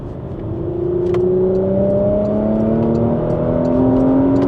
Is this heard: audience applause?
no